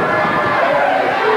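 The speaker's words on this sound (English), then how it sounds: "You can hear this crowd, and they're chanting here in Atlanta." A capacity crowd at an NWA wrestling show in Atlanta roars in a dense, continuous wall of cheering and chanting voices that fills the arena.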